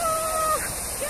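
Water running at a park water feature, a steady broadband rush lasting throughout, close and fairly loud, with a faint tonal whistle on top and no clear talking.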